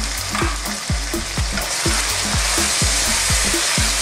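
Goat pieces stir-frying with oyster sauce, soy sauce and fresh mushrooms, a loud continuous sizzle broken by regular rhythmic scrapes of a spatula against the pan, about two strokes per second, with no talking.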